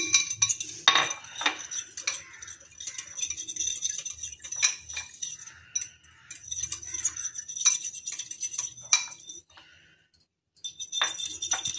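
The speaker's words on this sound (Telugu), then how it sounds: "ఈ షుగర్ కరిగేదాకా కొంచెం బీట్ చేసుకుందాం" Milk and sugar whisked together in a bowl until the sugar dissolves, a steady run of light metal clinks and scraping taps against the dish, close and alone with brief pauses.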